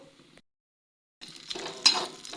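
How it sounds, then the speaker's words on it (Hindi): Raisins hit leftover ghee in a pan and start to sizzle and crackle after a brief silence, with light stirring and clinks of the utensil against the pan. "तो इस बचे हुए घी में डालूंगी अब किशमिश को।"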